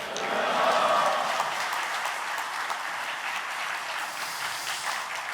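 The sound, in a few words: congregation applause welcoming the pastor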